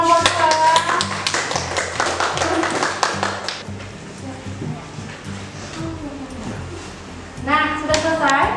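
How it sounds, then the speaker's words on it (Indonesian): A class of schoolchildren claps for a group that has just presented, a scattered burst of hand claps under a voice that then fades into quieter room noise before more talk. "Tepuk tangan untuk kelompok 2."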